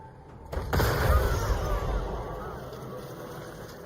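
Grenade explosion in the Baldur's Gate video game: a sudden loud boom with a heavy low rumble that swells and slowly decays over a few seconds, alone without talk.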